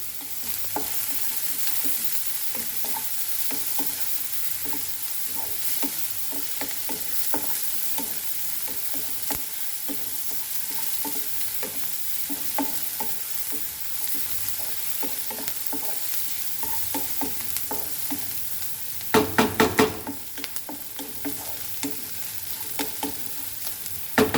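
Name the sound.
frying party snacks in a pan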